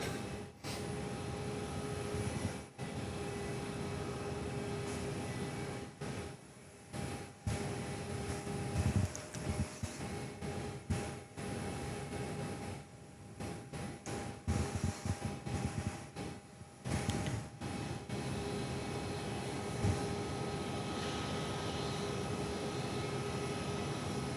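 An aircraft departs at Perth Airport, heard as a distant, steady jet roar with broad rumble and constant tones, partly covered by intermittent wind buffeting on the microphone.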